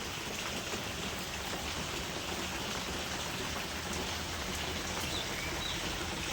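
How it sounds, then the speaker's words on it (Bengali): Spring rain falls steadily outdoors in a constant dense patter that never lets up, with no voices. "বসন্তের প্রথমেই এই বৃষ্টি শুরু হয়ে গেছে।"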